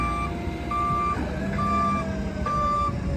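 A 2006 GMC C8500 diesel digger derrick truck's reversing beeper sounds in regular pulses over a steady engine rumble as the digger deploys.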